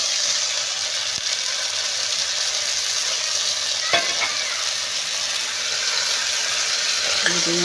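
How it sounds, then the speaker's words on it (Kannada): Ridge gourd and potato pieces fry in a pan with a loud, steady hiss of hot oil, and a spoon stirs them now and then. The sound is close and there is no speech. "ಈಗ ಇದಕ್ಕೆ ನಾನಿಲ್ಲಿ ಹೀರೆಕಾಯಿ ಕಟ್ ಮಾಡ್ಕೊಂಡಿದ್ನಲ್ವಾ ಅದನ್ನು ಹಾಕ್ಕೊಳ್ತಾ ಇದ್ದೀನಿ"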